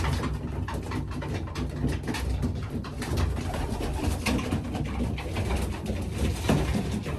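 Pigeons kept in the Philippines coo and murmur continuously at close range, several birds overlapping in a dense, steady chorus with no speech.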